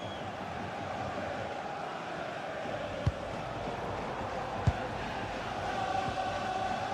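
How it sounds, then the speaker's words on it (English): Stadium crowd noise from the FC 26 football video game at a simulated Premier League match between Liverpool and Tottenham Hotspur, a steady broad roar of thousands of fans, with two sharp brief thuds standing out near the middle. "just listen to this crowd"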